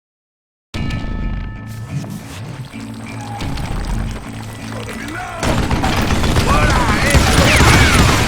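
Gunfire in the Call of Juarez: Gunslinger video game, loud rapid shots and mechanical clatter over a dense battle din that intensifies toward the end, with someone talking over it.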